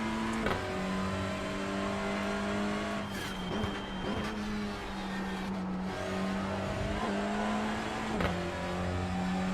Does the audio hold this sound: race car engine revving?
yes